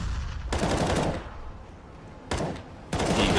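Burst-fire Glock gunfire in the video game Counter-Strike on the Overpass map in a Gambit vs BIG match, heard as loud rapid bursts of shots in several separate clusters, close and dense.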